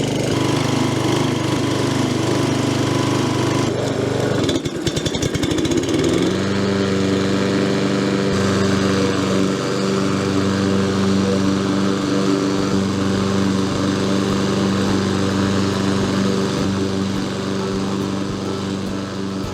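A Hayter Harrier 56 Pro petrol lawn mower starts with a brief burst and settles into a steady, loud, close engine drone that runs continuously with no talking.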